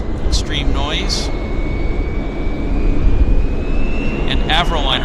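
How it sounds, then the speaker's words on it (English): A Beech 1900 turboprop taxiing to park at Vancouver Airport, a steady loud engine drone with a thin rising whine, while people talk over it. "Our Beach 1900 noisemaker is going to park right in front of us."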